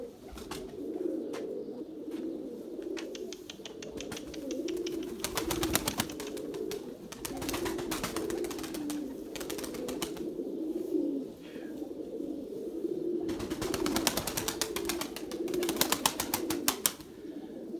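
Pigeons coo continuously in a low, throaty murmur, several birds overlapping, with occasional wing flaps and rustling nearby.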